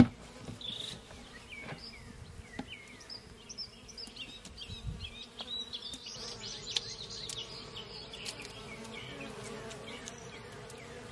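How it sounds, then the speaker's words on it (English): Many honey bees buzz around a yard during a honey harvest, a dense, continuous insect hum with individual bees whining past close to the listener in short rising and falling swoops. "there's so many bees out here"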